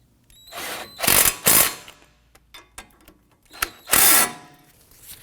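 Front brake caliper bolts on a 2003-2014 Volvo XC90 are snugged down with a power tool in short, loud whirring bursts separated by pauses and a few light metallic clicks.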